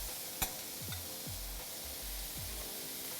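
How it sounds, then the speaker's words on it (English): Shrimp sizzle in a hot sizzle pan during a very quick cook for garlic shrimp tacos, a steady frying hiss running throughout with a few soft scraping stirs and one brief clink near the start. "This sizzle pan's just doing its job."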